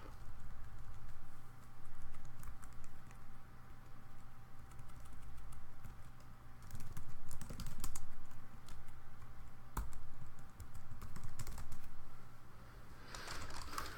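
Keys clatter steadily on a computer keyboard at close range, with irregular bursts of fast typing and a few sharper key taps over a low background hum.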